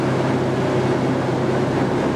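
A sewage bypass pump runs at about 1750 RPM as a steady, loud mechanical drone with a low rhythmic throb and no pauses.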